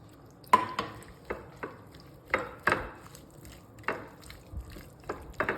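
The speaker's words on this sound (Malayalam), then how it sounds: "നല്ലപോലെ മിക്സ് ചെയ്യുക." Spice paste with ginger and powdered spices is mixed with water for a prawn fry, heard as a series of irregular scraping, sloshing stirring strokes, close and moderately loud, with no talk.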